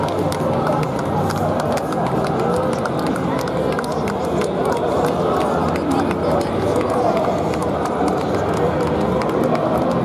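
A crowd at an outdoor march in Ukraine applauds passing volunteers. Dense, continuous clapping and crowd noise go on for the whole stretch, with voices mixed into the din.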